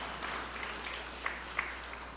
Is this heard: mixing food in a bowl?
no